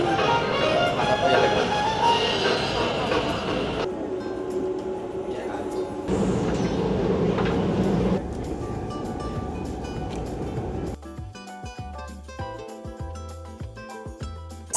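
Continuous rumble of a Taipei commuter train in motion, steady and enveloping, shifting in tone partway through as the ride continues.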